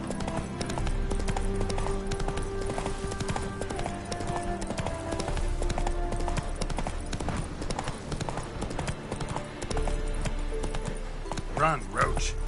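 Horse hooves clip-clop in a fast, rhythmic gallop in The Witcher video game, continuous and fairly loud over a busy game soundscape, with a brief spoken line near the end.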